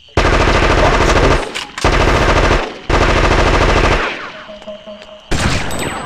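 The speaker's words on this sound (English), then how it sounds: "you just get mowed down by assault rifle bullets" Rapid automatic assault rifle fire in the video game Fear Effect: loud, sustained bursts of gunshots with short gaps between them, followed by a tail of lighter impacts and clinks, with a single word spoken briefly.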